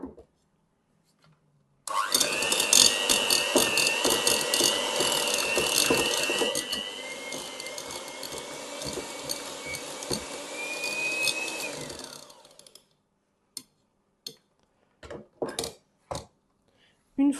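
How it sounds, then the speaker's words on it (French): Electric mixer beating butter for cookie dough, a loud steady motor whir with a slowly rising pitch lasting about ten seconds, then cutting off and leaving only scattered clicks and knocks. "on va commencer à battre notre beurre"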